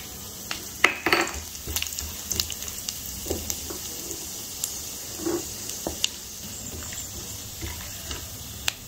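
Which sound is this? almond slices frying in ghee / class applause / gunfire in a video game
almond slices frying in ghee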